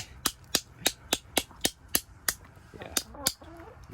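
A hammer cracking black walnuts to feed chickens, about ten sharp evenly spaced knocks close by, with faint chicken clucks near the end.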